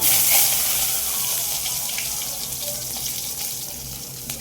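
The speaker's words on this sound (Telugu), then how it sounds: "ఆయిల్ కాగిందండి. ఇందులోకి ఇప్పుడు మిల్ మేకర్ వేసుకుందాం." Soaked, drained soya chunks (meal maker) frying in hot oil give a steady, close, broadband sizzle that holds at a fairly even level throughout, with no voices.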